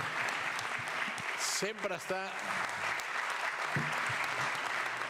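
Assembly audience giving a round of applause for a long-serving member named Anna, steady crowd clapping throughout with a brief spoken word cutting through partway.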